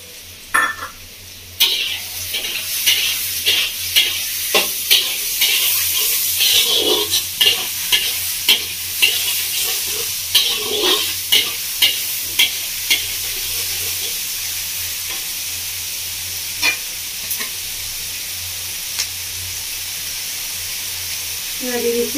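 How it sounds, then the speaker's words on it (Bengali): Washed, chopped mushrooms stir-fried for chow mein in a Bengali village kitchen make a loud, steady sizzle, with a regular series of spatula scrapes and knocks against the pan, close and with no talking. "এবার দিয়ে দিচ্ছি মাশরুমগুলো ধুয়ে কেটে রাখা পরিষ্কার করে"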